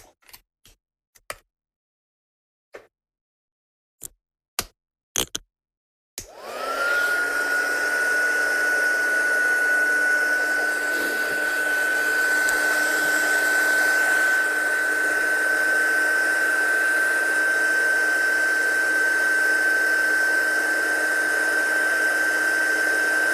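After a few sharp clicks a handheld dryer switches on and blows with a loud, steady whirring drone and a constant whine, held for nearly twenty seconds over wet craft card.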